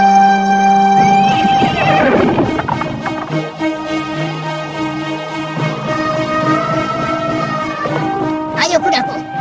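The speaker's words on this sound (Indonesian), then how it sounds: "Ayo kudaku, larilah dengan cepat." An animated horse whinnies loudly and long, then hooves clatter in a gallop beneath a dramatic music score.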